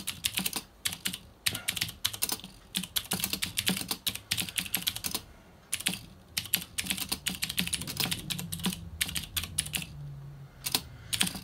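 Fast typing on the keyboard of a vintage Triton computer with 2-key rollover: dense, irregular runs of crisp close key clicks with short pauses between bursts, no talk.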